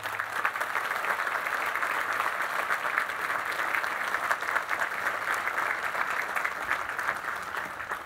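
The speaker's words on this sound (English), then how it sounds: "Let's recognize all of these accomplished graduates with a round of applause." Sustained, dense applause from a large audience of graduates and guests at a 2019 university commencement ceremony, steady and even throughout with no voices rising above it.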